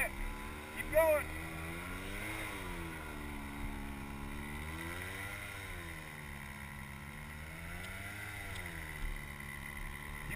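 Off-road vehicle engine climbing a sand dune at Coral Pink, a steady droning rev that rises and falls in slow waves, heard at a distance with wind.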